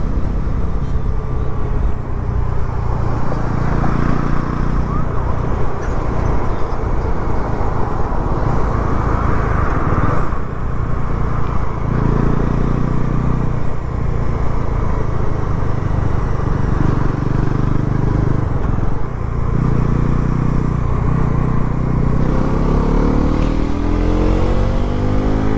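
A Bajaj Pulsar NS 400Z motorcycle ridden at speed, with a loud, sustained engine drone mixed with rushing wind and road roar, rising in pitch near the end as it accelerates.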